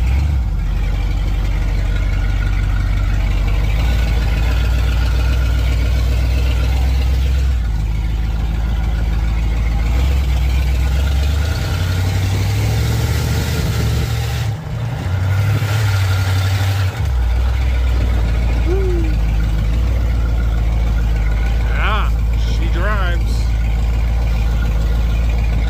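A Buick Super fitted with a swapped 455 V8, long dormant, idles steadily and loud and close, its low rumble holding constant with a brief dip and a slight rev midway, no talking over it.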